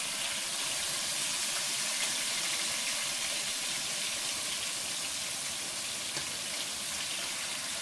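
Cube steaks fry in a hot pan, browning on one side, giving a steady, dense sizzle and crackle that holds evenly throughout with no voices.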